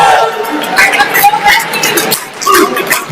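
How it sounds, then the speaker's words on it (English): Spectators at a sumo tournament, the 2025 Rain City Open, cheer and chatter as a crowd, with steady hubbub and bursts of voices across the clip. "Was that Portland cheering there?"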